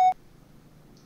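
A phone beeps once, a short bright electronic tone at the very start, followed by quiet room tone.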